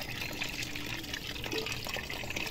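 Cold water from a storage tank poured over long hair during a shampoo wash, a steady close splashing and trickling stream with no pause and no talking.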